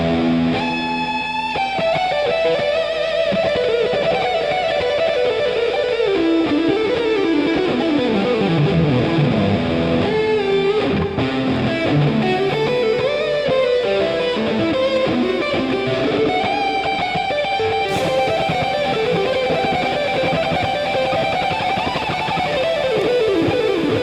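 An Ibanez electric guitar plays a solo in a loud, continuous run of fast distorted lead lines, thickened with a chorus effect, with no voices over it.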